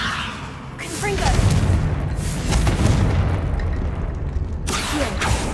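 Repeated booming blasts from the Confringo spell in Hogwarts Legacy, several explosive whooshes rumbling in succession over a steady game soundscape.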